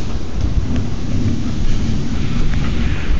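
Thunder from a close lightning strike during a summer storm, a loud sustained rumble over steady rain heard from a porch.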